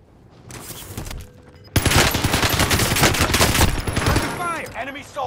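Video game gunfire in a battle royale match, a sustained burst of rapid automatic shots that begins abruptly after a quieter stretch and then tapers off, with brief game voice callouts around it.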